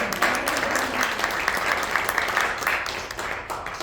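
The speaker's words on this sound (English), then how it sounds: "Round of applause for Dwight." Sustained applause from a crowd at a Lakeland Golf Club event, a steady dense patter of clapping that holds for several seconds at moderate level.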